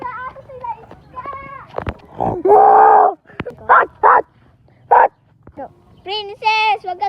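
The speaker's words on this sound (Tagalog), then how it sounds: "May aso!" A dog barks several times in short bursts amid excited children's voices, with talking and calling throughout.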